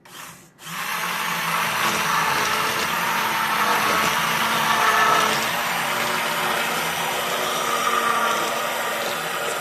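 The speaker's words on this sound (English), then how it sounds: "I'm going to blend this one with the blender immersion blender" Immersion blender whirring steadily through a batch of homemade castile soap, a continuous close buzzing motor drone that starts after a brief pause and runs evenly throughout with no talk.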